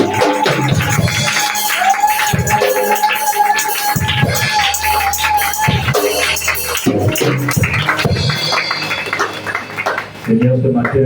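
A church congregation acclaims and cheers loudly, a dense wall of voices with shouts and whoops mixed in, continuing almost without pause.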